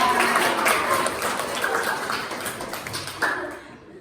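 A classroom of students applauds after a presentation in a Wedangga lesson: dense, steady clapping that carries on for a few seconds and then quickly fades out.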